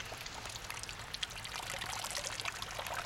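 Water trickling and pouring from a drinking water fountain in a garden, a continuous splashing stream with small irregular spatters, close and steady.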